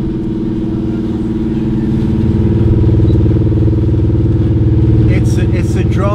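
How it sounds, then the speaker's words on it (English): A ship's engine drones low and steady on an overnight ocean voyage to Fanning Island, heard from the open top deck. The hum is constant and close, with faint voices briefly near the end. "It's the drone of the engine that will become part of us after"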